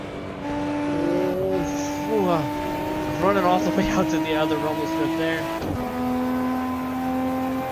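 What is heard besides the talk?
Toyota Supra engine crackles and turbo sound, Assetto Corsa video game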